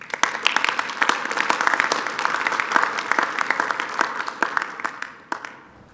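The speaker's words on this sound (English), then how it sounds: "And a round of applause for James." An audience at an ARIN 56 conference livestream gives a steady round of applause, dense clapping held for several seconds before tapering off at the end.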